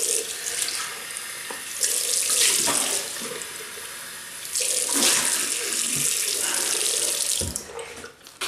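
A sink tap runs steadily after a wet shave with sandalwood shaving cream, the water gushing and splashing in bursts as hands rinse the face, close and fairly loud with no talking.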